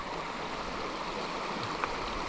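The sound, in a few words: creek water flowing in Northern California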